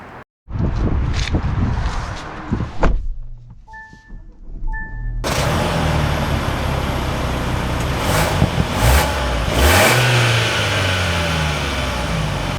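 A 2024 Kia Sorento X-Pro pulls away and accelerates on the road, a mid-pitched engine rising in a steady rev before settling into loud, continuous driving noise with a brief quieter gap partway through.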